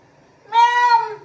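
A single drawn-out meow, voiced by a person imitating a cat, rising briefly then sliding down, fairly close and clear.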